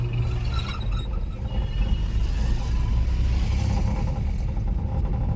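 A car eases forward on a main road as a learner driver slowly lets out the clutch: a steady low engine rumble with slight revving and some clatter, near and continuous, no talking.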